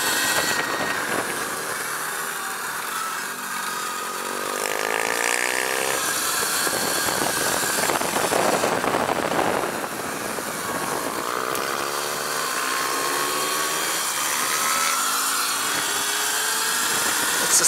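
A BAC2000 LiteSpeed battery-powered race motorcycle lapping a track, its steady high electric whine rising and falling with speed, close and continuous with loud wind rush throughout.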